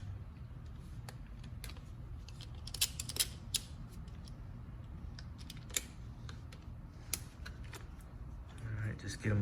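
Bolts are worked loose with a number 5 Allen key on a 2020 Yamaha Raptor 700R SE, giving scattered metallic clicks and creaks close by over low background hum.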